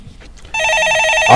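On a Korean radio stock call-in show, a telephone rings loudly with a rapid, trilling electronic bell that starts abruptly after a moment of quiet and continues steadily.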